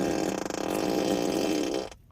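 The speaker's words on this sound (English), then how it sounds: "A Ludicrous fart." A Tesla Model X P90D plays its novelty fart sound effect, a loud, continuous buzzy raspberry lasting about two seconds before cutting off abruptly.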